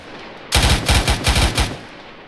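Rapid bursts of automatic gunfire in the military shooter Arma 3 on the Altis map, loud and close, fired in quick uneven volleys of six or seven shots that stop after about a second.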